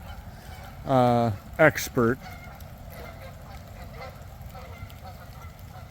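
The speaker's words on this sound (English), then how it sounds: "Gotta appreciate the geese." A goose gives a loud, drawn-out honk followed by two shorter honks, over outdoor background noise, with a voice speaking faintly.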